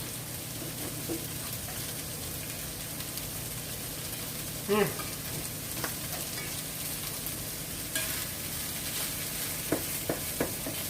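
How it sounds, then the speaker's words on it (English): Corned beef hash fries in olive oil in a pan, giving a steady, soft sizzle with a few louder crackles and scrapes near the middle and end. "Oh yes, we're gonna make it sizzle."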